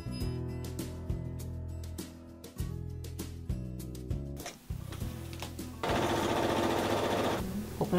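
A sewing machine stitches a seam on a fabric plant-pot cover, its motor whirring steadily with a rapid mechanical chatter in short runs and brief pauses, then a louder, denser burst of stitching near the end, close up.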